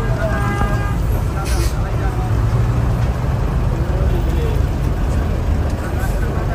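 Crowded city traffic thick with motorcycles and buses in a busy Eid market area, a steady dense roar of engines with scattered horn toots and background crowd babble throughout.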